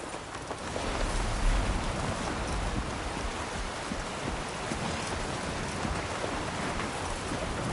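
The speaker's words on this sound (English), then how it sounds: "Storm's coming, Jim." Steady, dense rain pours in a storm in the video game Death Stranding 2, a continuous close hiss with no distinct thunderclaps and no talking.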